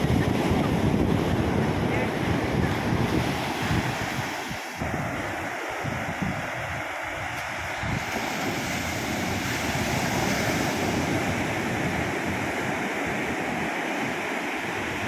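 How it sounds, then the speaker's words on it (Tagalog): Big ocean waves surge around a fishing boat at sea while nets are being laid out, heard as loud, continuous sloshing and wind buffeting, with some voices in the background. "Ang laki ng alon, no?"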